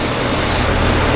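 Brake cleaner sprayed around a Procharged Chevrolet Silverado engine to hunt for a vacuum leak, a loud continuous hiss that runs the whole moment over the engine's hum.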